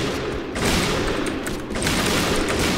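Rapid bursts of gunfire in a zombie video game, dense loud volleys of shots crackling one after another with a brief gap between sustained salvos.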